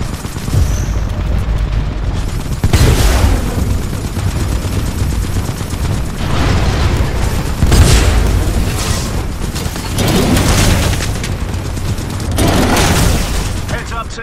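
Heavy booming explosions and bursts of gunfire repeat roughly every couple of seconds in a Titanfall 2 Frontier Defense battle with Mortar Titans. The blasts are loud and dense, with a constant rumble of combat between them.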